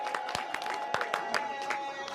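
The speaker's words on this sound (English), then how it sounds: "So let's clap for the women first." An audience claps for the women at a presentation to people of the diaspora, scattered individual claps forming a brief, moderately close round of applause with faint crowd murmur underneath.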